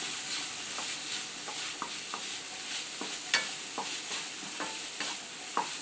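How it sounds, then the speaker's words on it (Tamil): Grated coconut is stirred into cluster beans poriyal in a pan, with soft repeated scraping strokes of a spoon over a gentle, constant sizzle. "இப்போ நம்ம 1/2 மூடி தேங்காய் துருவி வச்சுக்கிறோம், இதில் சேர்த்துக்கலாம். இதை போட்டு நல்லா கிளறிக்கலாம்."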